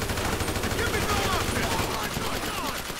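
Dense automatic gunfire from a firefight in Grand Theft Auto V, rapid overlapping shots rattling continuously and loud throughout, with a voice talking over it.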